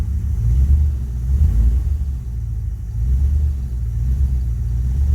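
A 1973 Dodge D100 pickup's engine rumbles low and steady nearby, swelling in a couple of gentle revs after a new throttle cable is fitted, with no talk over it.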